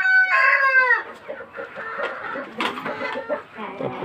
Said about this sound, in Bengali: এইদিকে আমার একটা সাদা মুরগি বসে আছে